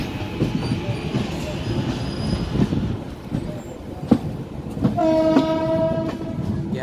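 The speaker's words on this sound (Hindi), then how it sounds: "लोकमान तिलक एक्सप्रेस।" Lokmanya Tilak Express rolling along a railway line during double-track construction near Phulpur, with steady rumble and rail noise, a sharp clank, then a harmonic horn blast near the end.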